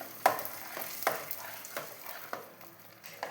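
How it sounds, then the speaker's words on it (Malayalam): Erissery curry being stirred in a pan, with a few distinct scraping strokes of a spoon against the pan, spaced about a second apart, close and fairly quiet over a faint background. "നന്നായി ഇളക്കി കൊടുക്കാം."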